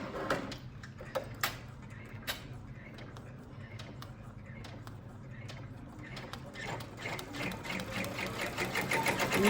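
An embroidery machine stitches on toilet paper set to slow, giving a steady rapid ticking and mechanical clatter that grows a little louder and busier over time, close up and alone without talking.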